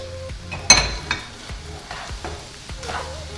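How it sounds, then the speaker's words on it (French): A soy vermicelli stir-fry for Thai pad woon sen being stirred in a pan, with a sharp metallic clank, then repeated scraping strokes over a faint sizzle. "Je mélange."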